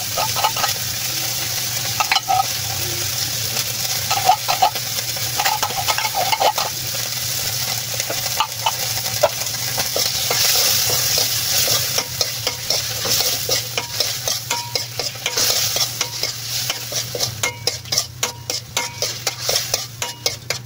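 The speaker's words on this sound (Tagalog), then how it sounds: "Lutoan lang taning corned beef." Corned beef fries in a pan while a utensil stirs it, giving a steady loud sizzle with repeated scraping and clinking against the pan that speeds into a quick rhythm near the end.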